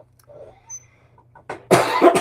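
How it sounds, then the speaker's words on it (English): A few quiet sounds, then two loud, harsh coughing bursts close to the microphone, with no talking. "Pardon me for all the coughing."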